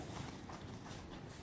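A young mare walks on soft footing in an indoor arena, her hooves clip-clopping in a steady, muffled rhythm at moderate distance under a constant broad hiss.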